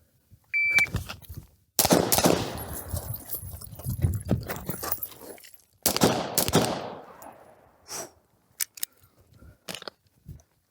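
Pistol gunshots during a shooting drill from the 20-meter line, with sharp close cracks fired in quick strings that are broken by short pauses, then a few isolated shots and timer beeps.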